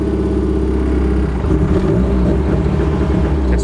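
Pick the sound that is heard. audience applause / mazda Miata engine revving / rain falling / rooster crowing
mazda Miata engine revving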